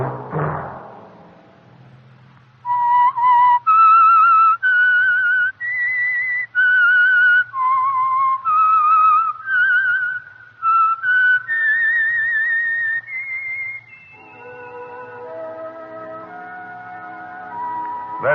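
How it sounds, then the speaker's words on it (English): A whistled theme melody from the Signal Oil radio mystery program The Whistler: a steady, clear run of sustained tones in a stepwise tune, loud and close. Soft footsteps come before it, and a low hum sits underneath. "Let that whistle be your signal for the Signal Oil program, The Whistler"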